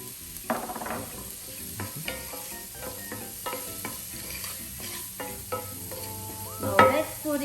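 Goat curry being stirred in a pan after pepper and salt go in, with a steady close sizzle under repeated scraping and clinking strokes of the spoon against the pan.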